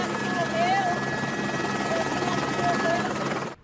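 A rescue helicopter thunders steadily overhead with a loud, continuous rotor chop and engine whine, while a reporter narrates over it, before the sound cuts off abruptly.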